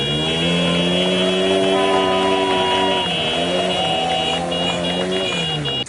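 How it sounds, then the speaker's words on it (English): Several motorbikes rolling past at a political gathering in Cameroon, a continuous loud engine drone with shifting pitch that rises and falls as the machines pass close by. "There are motorbikes here, as you can see."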